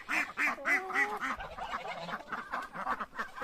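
Several farmyard ducks quack in a quick run of short nasal calls, close and fairly loud, then settle into softer, overlapping chatter among the evening poultry flock.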